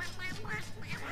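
A cartoonish duck quacks repeatedly in a Lego Harry Potter video game, several nasal quacks in quick succession, clear and close over a steady background hum.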